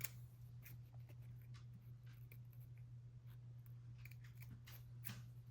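Scissors snip through paper up close while making black cat wine toppers, giving quiet, scattered clipping sounds over a steady low background hum.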